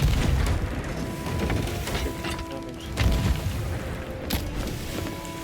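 Ship cannons fire in the naval video game Sea of Thieves, with several heavy booms and wooden crashes at irregular intervals over a constant background rumble of sea and ship noise.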